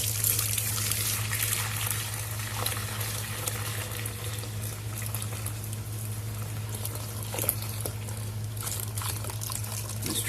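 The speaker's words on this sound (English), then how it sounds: "now it's time to transfer the soap into this bowl" Hot liquid soap pours into a bowl in a continuous patter and trickle, with a steady low hum underneath and scattered splashy spikes, close and fairly loud, no voices.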